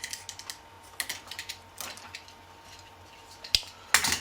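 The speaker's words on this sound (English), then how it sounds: "so I put some tape around mine" Tape is wrapped around dishwasher wiring while rewiring a Siemens dishwasher, making soft crinkling ticks and clicks close by, then a sharp tape-tearing rip at the end, with no talking.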